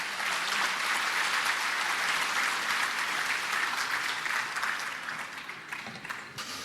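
Sustained applause from an audience welcoming a pastor to the podium at a national church elders' retreat, a dense steady wash of clapping that stays loud and gradually thins toward the end.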